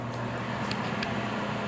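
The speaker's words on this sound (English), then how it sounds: "Sorry about the exhaust fan" A bathroom exhaust fan runs in a renovated rental unit, giving a steady low mechanical hum with a faint whir and no speech.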